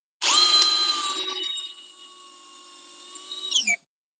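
A new DeWalt drill on speed 1 drives a fastener in, whining loudly at first, then settling into a steady lower-pitched hum before a brief strained rise and a sudden stop.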